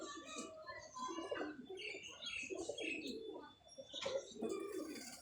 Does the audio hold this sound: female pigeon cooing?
yes